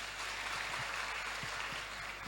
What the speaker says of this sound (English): All right, clap for her.